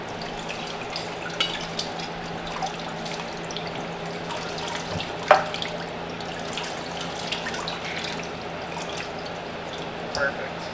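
Rennet is poured through a strainer into milk during cheesemaking, a soft continuous trickle and splash with occasional drips, steady in the background while someone talks.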